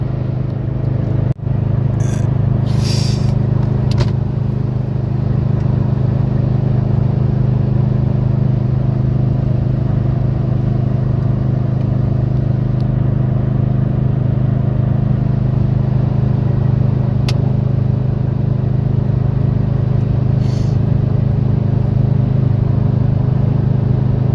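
A Ford rolls along the highway in cruise, a steady low engine drone and road rumble from inside the cab, unbroken for the whole stretch with a few faint clicks and bumps.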